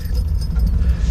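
An ignition key jingles and turns in a 1971 MG MGB, a brief close metallic rattle over a steady low rumble.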